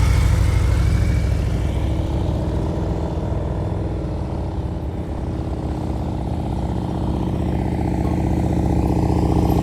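A motorcycle ridden at slow speed on a practice course in Illinois, its engine rumbling steadily and loudly up close throughout, with no break in the low throbbing drone.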